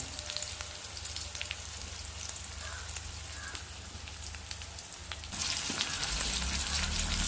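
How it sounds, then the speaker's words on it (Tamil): Mustard seeds and onion frying in hot oil, a continuous crackling sizzle like light rain that grows louder and brighter toward the end, with faint spatter pops. "இப்போ வந்து எண்ணெய் கொதித்து கொண்டு வந்ததுக்கு கடுகு போட்டுக்கிட, கொஞ்சம் கடுகு, அதே மாதிரி வெங்காயம் போட்டாச்சு"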